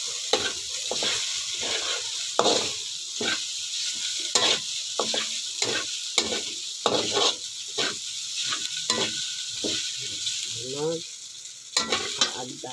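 Chicken balls sizzling in hot oil in a pan while being stirred, a steady frying hiss broken by repeated scraping and clattering stir strokes, close and fairly loud with no talking.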